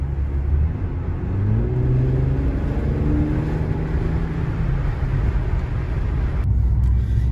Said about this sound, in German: auf Komfort ist der Auspuff auch relativ leise